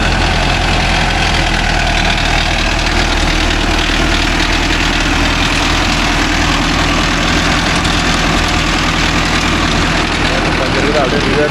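A Mahindra Arjun Novo 605 DI four-wheel-drive tractor runs with a rotavator attached. Its diesel engine gives a loud, close, continuous low rumble that holds steady throughout, with no pauses.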